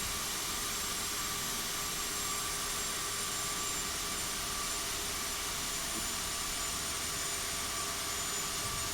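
An Air Canada airliner landing in the Prepar3D v4.5 flight simulator, seen from the wing: a steady, loud jet engine roar with broadband hiss continues unbroken throughout, with no talking.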